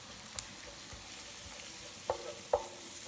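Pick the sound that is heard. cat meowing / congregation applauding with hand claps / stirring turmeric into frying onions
stirring turmeric into frying onions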